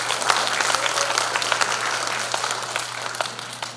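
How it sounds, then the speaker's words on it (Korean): A hall full of delegates at a Democratic Party regional delegate convention in Jungnang, Seoul, bursting into loud, sustained applause, dense clapping close up that tapers slightly toward the end. "큰 박수 부탁드리겠습니다."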